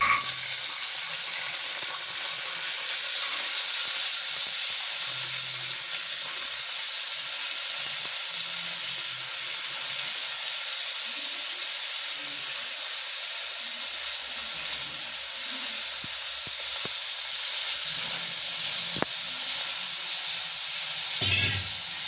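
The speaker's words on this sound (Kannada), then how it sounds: "ನೆನೆ ಹಾಕಿರೋ ತೊಳೆದಿಟ್ಟಿರೋ ಕಾಳು ತೊಗೊತಾ ಇದ್ದೀನಿ. ಅದಕ್ಕೆ ಹಾಕಿ ಕೊಡೋಣ." Soaked chickpeas lightly frying in a pan for a chickpea and pea sambar, giving a steady, close hiss and sizzle that holds at a constant level throughout.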